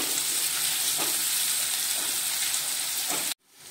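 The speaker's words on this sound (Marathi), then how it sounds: "कांदा आपला भाजत आलेला आहे।" Chopped onion frying in a pan for Maharashtrian zunka, a dense, even sizzle with faint crackles throughout that cuts off abruptly near the end.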